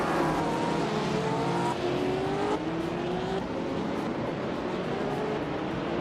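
A vintage 1962 Porsche 804 race car launches off the line in a racing game, its engine whining steadily higher through rising gear pulls, loud and close, amid the roar of other cars.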